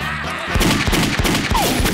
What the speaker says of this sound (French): Il tire avec des vraies balles maintenant.